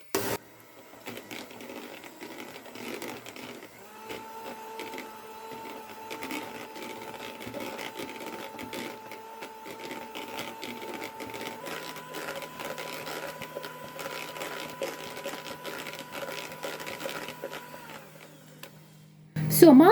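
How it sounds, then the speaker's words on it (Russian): An electric mixer whips softened butter, making a steady, moderately loud motor whir that holds for most of the stretch, with a brief voice at the very end. "миксер включен, поехали."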